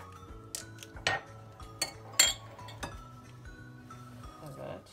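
Cake batter of baking powder and vanilla being stirred in a bowl, with faint scraping and several sharp clinks of a utensil against the dish at irregular intervals under soft room noise and a little talk.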